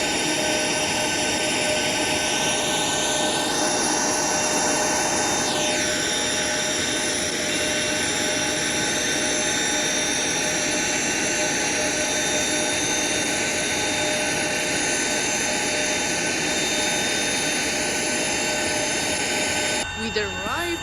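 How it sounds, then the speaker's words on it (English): A Ryanair jet airliner lands at Hahn Airport in a Roblox flight, its engines giving a steady loud roar and whine throughout with a falling pitch sweep early on, while a voice talks over it. "We then landed at Hahn Airport a minute or two later. It was a typical Ryanair landing"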